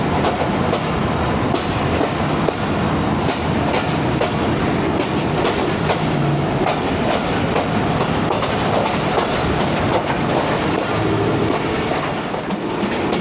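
A passenger train, the 9UP Allama Iqbal from Lahore to Narowal, rolls along the tracks with a loud, continuous rumble and rhythmic clickety-clack of wheels, heard from on board without talk.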